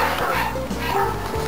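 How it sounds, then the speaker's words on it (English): German Shepherd guard dogs at a canine training facility bark in quick, repeated bursts, loud and close throughout. "Guard dogs."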